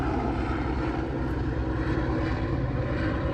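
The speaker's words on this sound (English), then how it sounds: "Why would a helicopter just randomly fly over when I'm talking about this shit?" Helicopter passing overhead, a steady broadband engine and rotor roar that stays loud and constant throughout with no talking over it.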